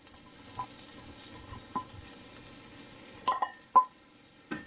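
Finely chopped onions and French shallots sizzle softly in a pan, a faint steady hiss broken by a few light clicks and taps of stirring.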